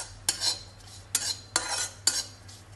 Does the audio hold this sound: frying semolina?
yes